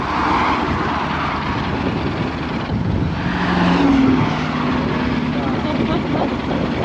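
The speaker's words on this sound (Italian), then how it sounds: "il vento è ormai fortissimo" Very strong wind near El Chaltén, Argentina, roars steadily against the microphone, a dense continuous rumble that masks nearly everything else.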